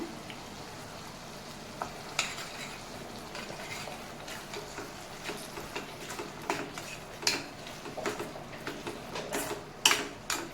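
Paneer chilli stirred with tomato sauce in a hot pan: a soft, continuous sizzle beneath repeated scrapes and clinks of a spoon against the metal, growing busier toward the end.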